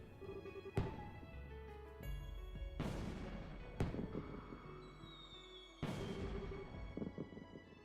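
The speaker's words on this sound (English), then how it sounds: "Interrupted by fireworks." Fireworks burst in a video game, with several deep booms at irregular intervals over a continuous, busy background of in-game sound.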